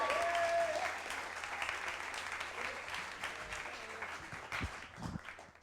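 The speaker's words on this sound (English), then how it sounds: "Can you make a round of applause for Stephanie Dogfoot" Audience applause at a live poetry slam at the Roundhouse, a dense sustained wash of clapping from a large crowd that stays strong throughout, with a few brief whistles near the start.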